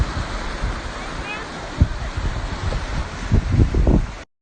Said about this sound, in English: That rock's getting hit with waves and shit.